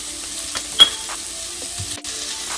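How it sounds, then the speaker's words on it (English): Sun-dried tomatoes dropped into a sizzling pan for spaghetti squash boats, a soft steady frying hiss with a brief clatter of stirring and a sharp click near the end, no voices. "Now I'm going to add my sun-dried tomatoes."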